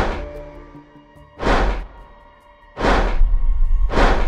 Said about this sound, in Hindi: बट लेटर हमें नज़र आया कि those were actually the footsteps of the people जो आफ्टर द बॉम्बिंग